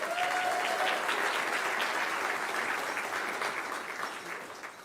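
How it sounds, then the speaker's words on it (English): An audience at a principal of the year awards ceremony applauds in a dense, sustained wash of clapping that fills the room and tapers off slightly toward the end. "Let's give them a round of applause"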